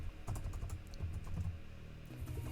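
Close, quiet keystrokes on a computer keyboard tap out a quick uneven run of keys, then pause briefly before a few more presses, with no speech.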